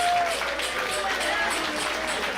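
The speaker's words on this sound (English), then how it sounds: "give yourselves a big round of applause" Crowd at a Chaotic Wrestling live event in Tewksbury, Massachusetts, clapping and cheering in a dense, continuous wash of noise, with an announcer's voice over the top.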